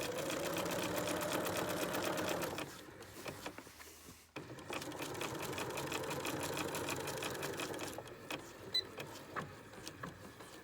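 A sewing machine runs steadily and close, stitching a bra cup onto a bustier foundation, its rapid needle chatter pausing briefly midway before resuming, with a few light clicks near the end.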